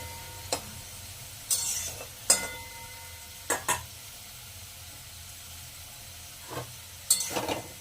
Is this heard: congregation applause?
no